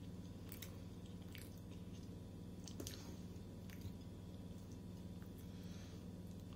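Someone chews pirozhki pies close up, with soft, moist, squishy bites and a few crisp clicks. The sound is faint and steady, and no one speaks.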